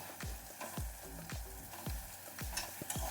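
Potatoes and green peas stirred in a frying pan, with repeated scraping strokes of a spoon sounding roughly every half second over a soft, continuous sizzle, close and alone.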